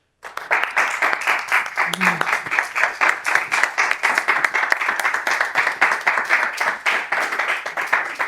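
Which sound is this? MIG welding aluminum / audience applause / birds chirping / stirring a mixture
audience applause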